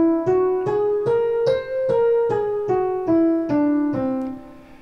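Nine clear tones of a whole tone scale starting on C, plucked one after another at an even pace, stepping upward by whole steps then back down, ringing and close.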